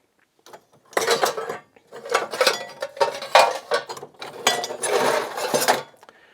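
Old metal kitchen utensils and meat grinder parts clatter and clink as they are handled, a run of irregular close metallic knocks and scrapes for several seconds with no talking.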